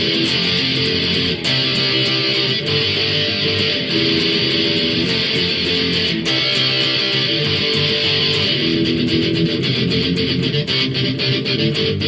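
Dense, steady guitar playing through the chorus of a song, loud and continuous with a driving strummed rhythm and no talking.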